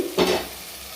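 Marinated chicken pieces drop into a pan of frying masala and oil, giving one short burst of sizzle and stirring that fades quickly to a quiet simmer.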